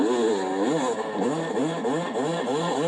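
A race kit dirt bike engine held at full throttle gives a loud, close, buzzing roar whose pitch wavers up and down continuously without a break.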